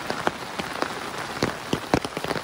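Heavy rain pours down steadily in a wet rural spot where people have come out fishing, a dense close patter with sharper individual drops splashing on a surface throughout.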